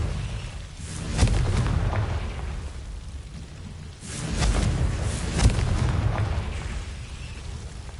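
Confringo blasting-curse explosions in Hogwarts Legacy come as booming bursts about three seconds apart, each trailing off into a dense rumbling wash, loud and continuous with no talking.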